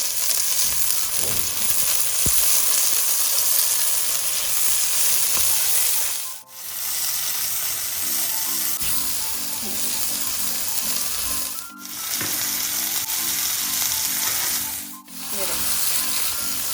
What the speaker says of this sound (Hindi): मटर के लिए हम पहले थोड़ा सा ऑयल डालेंगे और इसके अंदर हम डाल देंगे मटर। तो हम फ्राई करेंगे।